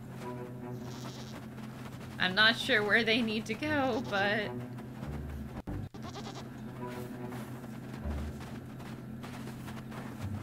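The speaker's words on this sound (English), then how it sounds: "That goat is stuck." A stuck goat bleats in the video game Blanc, a wavering cry rising over steady game music while players talk throughout.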